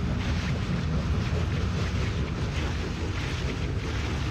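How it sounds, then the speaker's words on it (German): Ventilation fans in the Dead Space video game blow a steady, dense rush of wind, a constant broadband whoosh with no voices. "So windig wie das aussieht, scheinen das die Ventilatoren gewesen zu sein."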